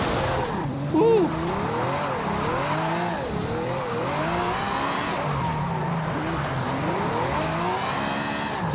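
A Ferrari drifts in Forza Horizon 5, with wavering tire squeals and a revving engine that rise and fall through repeated slides. Loud, close and continuous, with a person talking over it.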